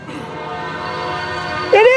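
Piercing P5 air horn on a standard-cab Norfolk Southern SD70 locomotive blasts in loudly near the end, over a steady rumble of the passing train and under excited voices.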